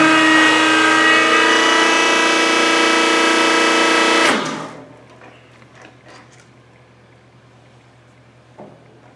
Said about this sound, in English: we just press and hold, and the machine would actually disengage when the cycle is complete.